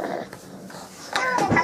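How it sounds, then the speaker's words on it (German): Talking dog character from a children's app playing through a phone or tablet speaker, a short burst of cartoonish, voiced, dog-like sounds rising toward the end, close and moderately loud in a home room. "So ein sprechender Hund."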